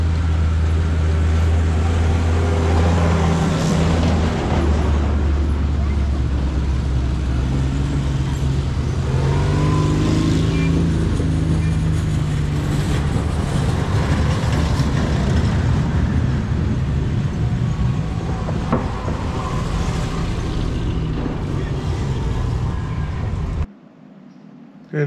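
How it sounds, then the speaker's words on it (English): Armored military vehicles drive around at an outdoor military event at Overloon, with a loud, sustained low engine rumble and rising and falling revs from heavy machinery nearby, mixed with crowd noise and faint voices, before cutting off near the end. "You see some armor driving around in the background"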